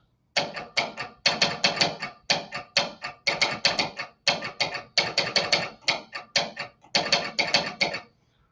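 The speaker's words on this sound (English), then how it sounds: "the alphabet code used for telegraph sending purposes would be full of dots and dashes" Rapid clicking bursts of a telegraph key tapping out Morse code, grouped into short and long runs with brief pauses, close and fairly quiet.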